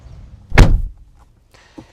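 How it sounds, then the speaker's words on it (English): The door of a 2026 Nissan Murano closes with a single solid, close thunk, followed by quiet and a faint small click. "closing up the door"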